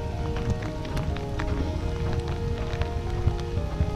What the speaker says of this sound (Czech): Tady první déšť a to jsem ještě v Kalifornii.